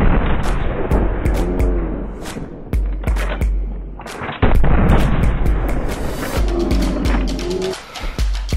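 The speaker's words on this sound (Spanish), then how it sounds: "que es la escopeta de repetición" Repeating shotgun shots from Red Dead Redemption 2 crack out as a string of loud, sharp blasts, irregularly spaced across the clip, each with a brief fading tail over a steady ambient background.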